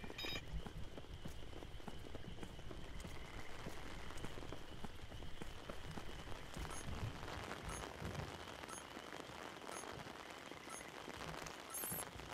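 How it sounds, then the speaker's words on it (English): Steady rain in the video game Interstellar Marines patters on surfaces with dense, constant hiss and scattered drips, loud and close throughout, with no voices. "Just that rain sound."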